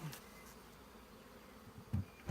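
Honeybees buzz around an opened hive during an acacia honey harvest, a faint, steady swarm drone with a few closer bees passing by loudly near the end.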